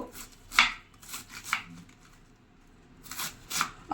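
Cabbage being chopped with a knife in a home kitchen: a few quick bursts of crisp cutting strokes, close and moderately loud, separated by short quieter gaps.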